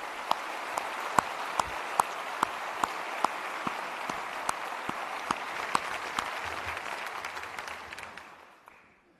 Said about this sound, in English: Let's give our commissioners a round of applause.